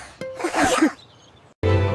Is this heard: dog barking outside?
no